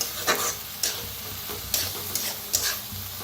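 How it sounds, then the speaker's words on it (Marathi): Dal roasts in a pan with a soft background sizzle, broken by repeated scraping strokes of a spoon stirring it every half second or so. The sound is close, and no one speaks. "डाळ मस्त अशी भाजून घेतलेली आहे।"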